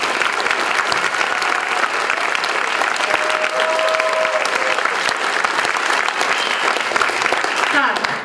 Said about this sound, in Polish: Więc teraz jeszcze raz dla tych uczestników, którzy tutaj byli, porządne oklaski.